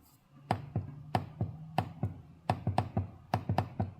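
Crisp, close laptop keyboard keys with a tactile click, on an HP Omen Max 16 gaming laptop, clicking in an uneven typing rhythm, a dozen or more distinct taps with short pauses between bursts.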